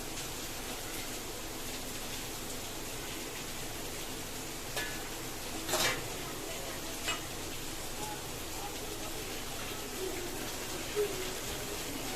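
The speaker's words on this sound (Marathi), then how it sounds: "आता मी पापड आणि भजी तळून घेणार आहे" Homemade papad and kurdai fry in hot oil with a soft, continuous sizzle, broken now and then by light utensil taps and small crackles, and no talking.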